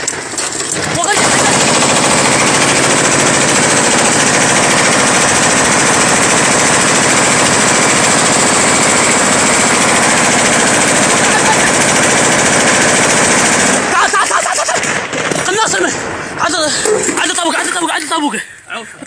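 Sustained, loud automatic machine-gun fire in a shooter video game rattles without pause for about thirteen seconds, then breaks off into scattered bursts as voices call out over it.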